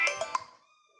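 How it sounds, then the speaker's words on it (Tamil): A mobile phone ringing with a bright electronic melody of three quick tone bursts. A fading held tone follows, close and fairly loud, with no voice over it. "எங்கள் அம்மா ஃபோன் அடிக்குது."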